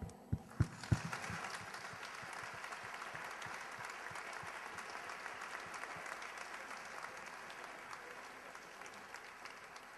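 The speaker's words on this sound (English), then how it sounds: "let's give a round of applause for that" Sustained audience applause at an awards ceremony, a dense steady clatter of many hands clapping with a few sharper claps near the start, filling the whole stretch without talk.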